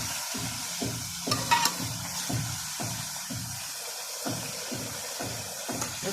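Chicken karahi fries in a karahi pan, Peshawari charsi street style, while a utensil stirs it in a steady run of about a dozen scraping strokes over constant close sizzling.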